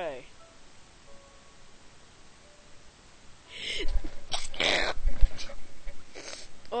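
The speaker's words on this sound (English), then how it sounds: "Oh, that was a really weird sneeze." A sneeze erupts midway through a Minecraft session, a sharp burst followed by scattered breathy noises and movement, recorded close on a headset mic over quiet game ambience.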